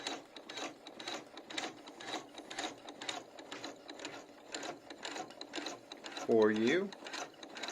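A Janome MC12000 computerized embroidery sewing machine stitches large basting stitches with a steady, rapid mechanical clatter of needle strokes close by. A voice speaks briefly near the end.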